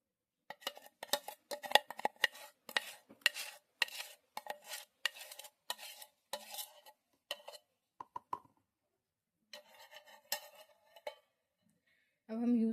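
A fenugreek and flaxseed mixture for an Ayurvedic shampoo is stirred briskly in a container, making rapid rhythmic scraping strokes up close, then a brief pause and another run of strokes.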